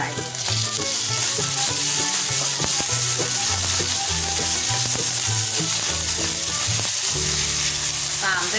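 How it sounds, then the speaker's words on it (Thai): Minced pork stir-fried in a hot pan as filling for Thai sago dumplings, loud continuous sizzling and frying with stirring, heard under steady music that plays throughout. "ผัดตรงนี้ให้หอมนะคะ"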